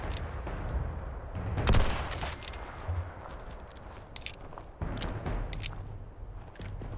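Tommy gun bursts in Fallout 76, short sharp volleys of automatic fire scattered across the stretch, fairly quiet amid game ambience, with a louder burst near the start and several clipped bursts later.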